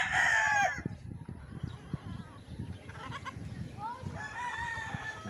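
Chickens cluck in a farmyard chicken pen, with a rooster crowing loudly at the start and again near the end, while a person talks over the scattered fowl calls.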